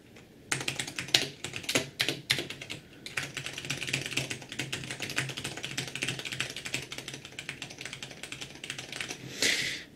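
IBM 5140 keyboard with Brown tactile key switches being typed on steadily, a dense run of close, crisp keystrokes with irregular rhythm and a louder flurry near the end, no voices.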